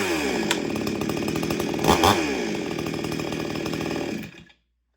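An antique Salem Master Pro chainsaw runs close by with a loud, steady buzzing engine drone, briefly revving louder midway before cutting off abruptly.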